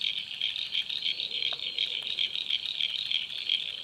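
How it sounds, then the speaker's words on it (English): Frogs at Cabramatta Creek after rain form a dense, continuous chorus of rapid, pulsing high-pitched calls, steady and fairly close, with no talking. "all the frogs come out. I hope they can be heard."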